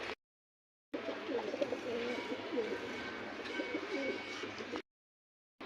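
Flying and breeder pigeons in a loft give a steady chorus of overlapping low coos and burbles, fairly close, with no talking over them.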